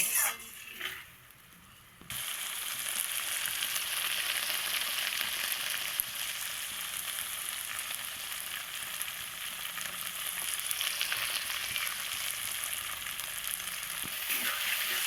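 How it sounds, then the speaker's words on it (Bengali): Spice masala frying hard in oil for a duck egg curry, a loud steady hissing sizzle that bursts in after a brief quieter moment and runs continuously, close up, with occasional light stirring clinks. "এই জলটা দিয়ে আবারও আমি কষিয়ে নেব খুব সুন্দর করে লাল করে, যতক্ষণ না তেল বের হচ্ছে ততক্ষণ অবধি আমি কষিয়ে নেব"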